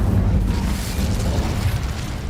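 A fiery Incendio spell blast from Hogwarts Legacy: a loud, sustained roaring burst of flame with a deep rumble that holds steady for a couple of seconds, with no voices over it.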